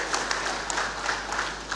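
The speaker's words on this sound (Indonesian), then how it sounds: "tepuk tangan pada beliau" Applause fills a provincial parliament plenary session in Gorontalo, a steady, even wash of many hands clapping at a moderate level throughout.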